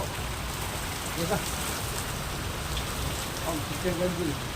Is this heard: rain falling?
yes